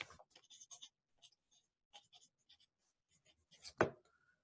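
A pen writes numbers on paper in short, close scratchy strokes with pauses between figures, ending in a firmer tap or stroke.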